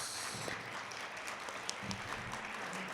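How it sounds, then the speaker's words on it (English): An audience at a live-streamed Mille Lacs Band of Ojibwe candidate forum applauds the chief executive candidates, a soft, steady wash of clapping heard from a distance for a few seconds. "Let's give the chief executive candidates a round of applause."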